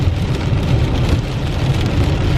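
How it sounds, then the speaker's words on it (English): Heavy rain falls hard and steadily in the afternoon after a day-long downpour, a dense continuous wash of drops hitting surfaces, loud and close, with no talk. "It's raining pretty hard."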